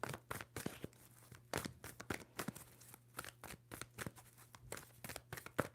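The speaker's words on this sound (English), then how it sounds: "Two more shuffles for Leo." Quick, crisp tarot card shuffling with rapid riffling and flicking bursts in a steady rhythm, close and fairly quiet.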